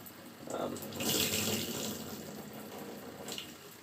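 Water runs from a tap in a soft, steady stream while rinsing a vacuum cleaner filter, swelling briefly and easing off, fairly quiet with faint background noise.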